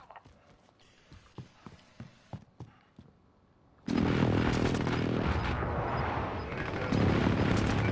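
Precision airstrike explosions in Call of Duty: Modern Warfare Warzone erupt suddenly into a loud, sustained roar of blasts and rumble. A series of quieter, evenly spaced footstep-like knocks comes before them.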